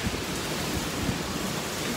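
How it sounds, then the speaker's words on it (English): Strong wind blowing during a storm makes a steady, dense roar of broadband noise with no distinct gusts, filling the whole clip without any voices. "Look, it is super windy, and I mean it."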